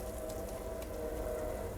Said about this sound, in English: That's a train going by, that's not the timer.